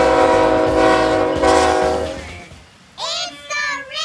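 A very long freight train with 180 double-stack cars rolls past close by with a loud low rumble and clatter, then its horn sounds in two strong blasts as the rumble fades.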